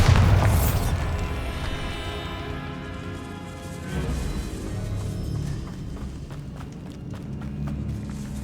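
A Bombarda spell explosion in Hogwarts Legacy opens with a loud booming blast that rolls off into a long, fading rumble, followed by softer game ambience and faint footsteps.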